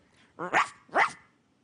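A man imitates a dog with two short, gruff barks in quick succession, close and fairly loud.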